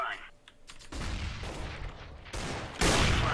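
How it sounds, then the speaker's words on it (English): A flashbang grenade goes off in a tactical shooter game, followed by bursts of gunfire and loud bangs that build in intensity, with radio-style team voice chat over them. "Throwing flashbang."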